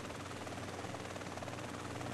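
A helicopter flies steadily in MTA San Andreas, its rotor drone and engine whine staying constant and fairly faint the whole time, with no voices over it.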